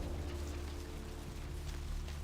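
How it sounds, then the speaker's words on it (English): Steady video game rain pattering on city streets in Vampire: The Masquerade - Bloodlines, a continuous wash of droplets with a low rumbling hum underneath and no voices. "Just the rainy streets."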